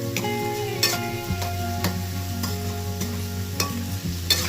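Onions frying with salt in a pan, a steady sizzle punctuated by repeated spoon scrapes and stirs at irregular intervals, close and loud with music faintly underneath.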